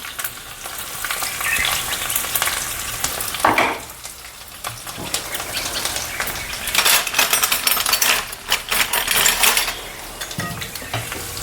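Dried red chillies and cumin frying in hot oil in a pan, a close crackling sizzle with bursts of spattering and metallic stirring clinks, briefly easing before growing louder again.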